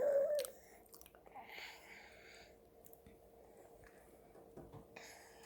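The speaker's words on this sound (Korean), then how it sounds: "천천히 먹어, 로야." A child eating a whole banana gives soft, close, wet chewing and mouth sounds at a steady pace, faint against a quiet room, with a brief high sound at the very start.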